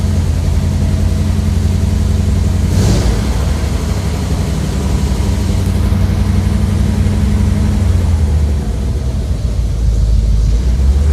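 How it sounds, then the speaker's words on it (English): An old car's engine idles steadily after its fuel pump problem has been fixed, running a little low and rough as a loud, continuous rumble throughout, with a brief burst of extra noise near the start. "Fires up like nothing."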